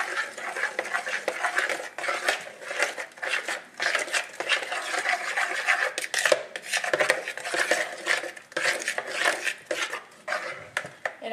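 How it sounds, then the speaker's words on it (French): A spoon stirs a mushroom marinade in a bowl for a vegan Asian-style appetizer, making repeated close clinks and scrapes in an uneven rhythm with no voices. "donc on mélange bien la marinade"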